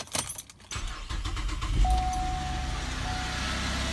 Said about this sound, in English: The vehicle's running.